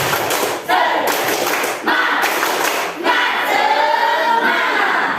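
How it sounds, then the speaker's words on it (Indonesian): A classroom of children claps out a patterned spirit clap in rhythmic bursts, loud and close, with short pauses between the groups of claps and a few voices mixed in. "Tepuk semangat."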